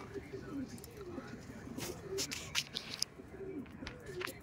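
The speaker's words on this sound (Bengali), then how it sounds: "এটা হচ্ছে মাদি পায়রা" Soft low coos of a female red Madrasi pigeon in a loft repeat in short phrases beneath faint background chatter and a few sharper clicks, moderately quiet and close.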